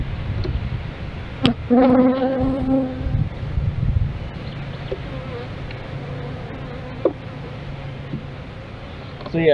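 Honeybees drone and buzz steadily around an open ten-frame hive, with a nearer bee briefly louder as it passes close, plus faint background noise and occasional handling sounds.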